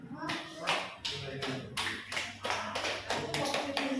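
A classroom group of children claps ten times in a quick, fairly regular rhythm, the claps sharp and near, with voices murmuring underneath.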